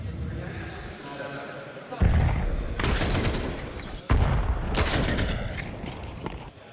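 Bursts of automatic gunfire in a Counter-Strike match at a live IEM Kraków playoff broadcast, loud rattling volleys in two main bursts with a caster talking excitedly over them.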